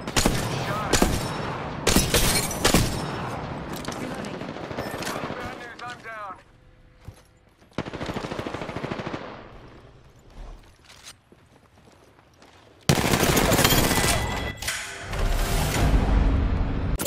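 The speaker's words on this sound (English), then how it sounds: "Getting shot at." Bursts of rapid gunfire in the Apex Legends battle royale shooter, several loud volleys in the opening seconds and again near the end, separated by quieter stretches of game sounds and voices.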